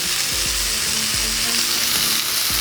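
Onion and celery mirepoix sizzles steadily in a wine-splashed pan, a loud continuous hiss with a few thumps as it is stirred, no talking.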